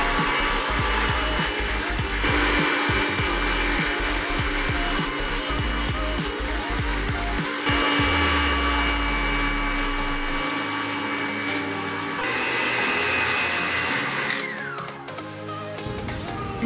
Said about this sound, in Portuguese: Acrescente o restante do açúcar na batedeira e bata na velocidade máxima até